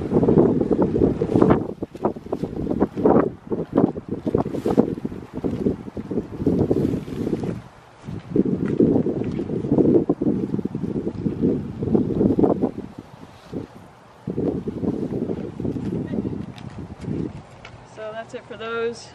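Gusty wind buffets the microphone outdoors while an ultralight Zpacks Triplex tent is pitched with titanium stakes on a windy day, loud rumbling bursts coming and going in waves with brief lulls, a person talking in between.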